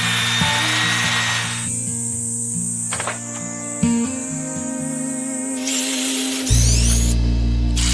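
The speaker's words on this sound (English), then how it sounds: "The cordless drill winds through screw after screw, locking the joists into a square grid." A cordless drill drives screws into wooden joists on a hillside house frame, its motor whirring in several sustained bursts with pitch shifts between runs, loud and close, and no voices.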